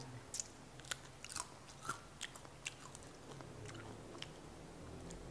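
Someone bites into and chews a crispy baked fish strip snack, with sharp crunches recurring at an uneven pace, close and fairly quiet, and no talking.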